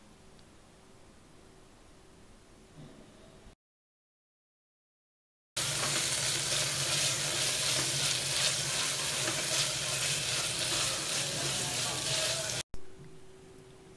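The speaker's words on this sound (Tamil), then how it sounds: "தக்காளி நல்லா வதங்கணும்." Tomatoes sautéing in a pan with mint and coriander leaves for egg salna, a steady loud hissing sizzle lasting several seconds, close, after a quieter stretch and a short gap.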